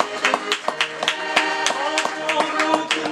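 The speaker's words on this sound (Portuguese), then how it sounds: "Quero palmas para o Ticota e mais palmas para a Zita." An audience at a Portuguese desgarrada sung-verse duel claps in a steady rhythm along with sustained accordion-like music, the sharp hand claps cutting through the tune at close range.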